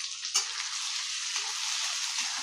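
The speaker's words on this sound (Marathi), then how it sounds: "तेल चांगलं तापलेलं आहे तर त्याच्यात घालूया लसूण पाकळ्या" Garlic cloves frying in hot oil for a Marathi wild-greens (ranbhaji) dish: a steady, close, bright sizzle with a sharp spatter burst early on, no talking.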